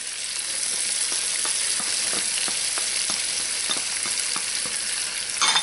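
Celery frying and sizzling in a pan for shrimp étouffée, a steady close hiss with occasional stirring scrapes and light clicks throughout, no voices.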